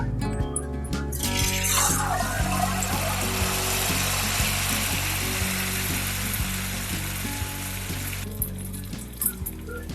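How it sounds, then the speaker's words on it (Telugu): Boiled noodle snacks fry in hot oil, giving a steady, close sizzle and crackle that swells after they drop into the pan, then eases off toward the end, with a faint kitchen hum underneath. "ఆయిల్ హీట్ అయింది ఇప్పుడు రెండోది వేసుకుంటున్నాను"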